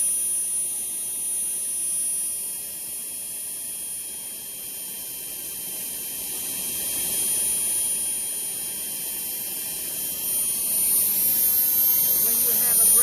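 A JetCat P120 kerosene model jet turbine idles with a steady high-pitched whine over a broad rushing roar, loud and unchanging throughout.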